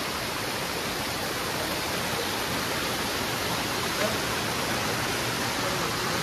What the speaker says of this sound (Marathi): हे वरून येते बघा त्या दगडातून इथे पाणी